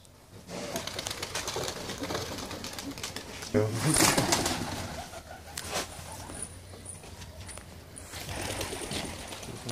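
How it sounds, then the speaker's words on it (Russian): Pigeons of a rare breed being released outdoors, with soft cooing and fluttering wingbeats mixed into a busy open-air background, and a short louder burst of flapping near the middle. "вот сейчас Володя выпускает голубей"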